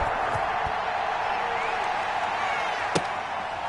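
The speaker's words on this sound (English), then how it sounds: "This crowd is ready as their guys get set to match up between the Pittsburgh Steelers and the Kansas City Chiefs." An NFL stadium crowd at a Pittsburgh Steelers versus Kansas City Chiefs game keeps up a steady roar, with distant murmur and a few thumps in the wash.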